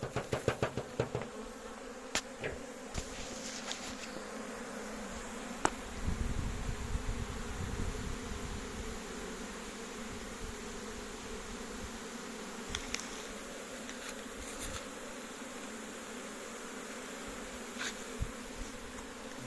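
A honeybee swarm hums faintly and continuously in the background, broken by a few sharp knocks and clicks nearby.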